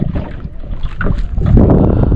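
Strong wind buffeting a small fishing boat at sea, a loud, continuous roaring rush with gusts that swell toward the end, mixed with water sloshing against the hull.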